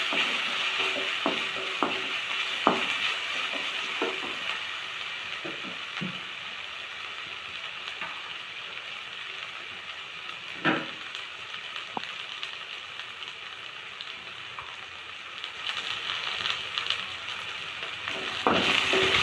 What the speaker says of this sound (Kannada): ಇದನ್ನು ಚೆನ್ನಾಗಿ ಫ್ರೈ ಆಗ್ತಾ ಇದೆ ಎಣ್ಣೆಯಲ್ಲಿ